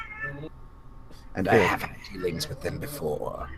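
A cat in the room gives a clear, loud meow partway through and a few quieter calls around it, overlapping people talking nearby.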